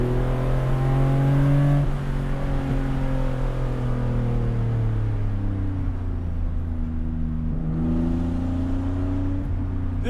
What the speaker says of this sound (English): Idles beautifully, and you can hear the exhaust.